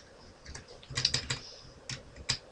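Soft, close typing on a computer keyboard during a C# programming tutorial, a quick irregular flurry of about eight light key clicks over a quiet background, no speech.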